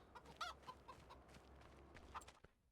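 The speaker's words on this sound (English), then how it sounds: "look at all those chickens" Chickens in Farming Simulator 25 give soft, scattered clucks over about three seconds, faint and somewhat distant, a few sharper calls standing out.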